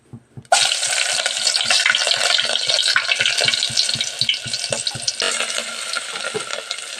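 Garlic and green chillies hit hot oil on a wood-fired stove for Kokani chicken sukka, and a loud, steady sizzle rises at once from a sharp start, crackling and spattering close by with rhythmic stirring knocks underneath.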